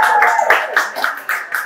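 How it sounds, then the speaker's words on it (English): A small audience at a comedic holiday variety show gives a short burst of irregular hand claps that comes and goes over nearly two seconds, close and fairly loud. "More applause."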